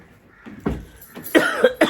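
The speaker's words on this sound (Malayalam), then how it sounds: "എനിക്കും ഉണ്ട് ചെറിയൊരു ചുമയുണ്ട് കേട്ടോ" A few short, dry coughs close to the mic, the last two coming quickly after a brief pause.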